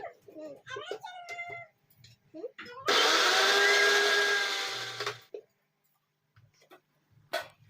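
A mixer grinder whirs loudly for about two seconds, blending apple pieces into a purée, with talking before and after it.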